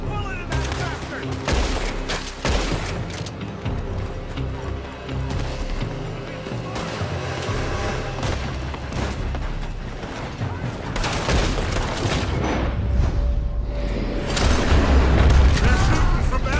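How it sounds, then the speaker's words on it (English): Gunfire crackles and booms through a shootout in Red Dead Redemption 2, with dense, overlapping shots and heavier blasts continuing steadily and growing louder toward the end, under shouted voices. "They're shooting from that building!"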